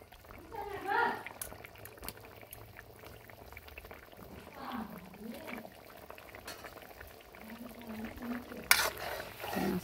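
A curry with cumin paste simmers and bubbles in a pan with soft, continuous boiling and sizzling, while a voice talks intermittently over it and a brief clatter comes near the end.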